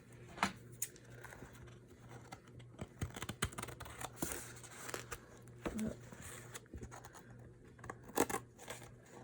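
Paper for a junk journal cover is trimmed with scissors, producing quiet, close snips and rustling scratches spaced irregularly, with a soft voice now and then.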